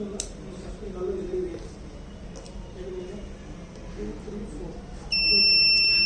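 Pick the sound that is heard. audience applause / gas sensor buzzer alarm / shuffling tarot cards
gas sensor buzzer alarm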